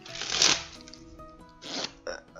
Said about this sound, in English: we can shuffle cards like this as well if you like